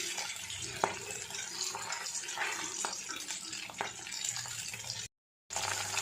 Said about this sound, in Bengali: মাছ ভেজে দিচ্ছি সবাই মাছ ভাজা দিয়ে খাবে